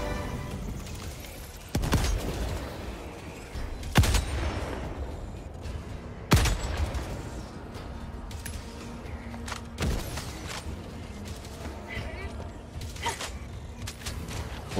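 Scattered heavy shots and booms ring out in Helldivers 2 combat, a few sharp loud reports spaced seconds apart over a rumbling, creaking battlefield background.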